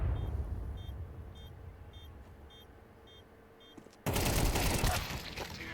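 FAMAS rifle fire in Counter-Strike, a faint patter of distant shots with small beeps, then a sudden loud close burst of gunfire near the end.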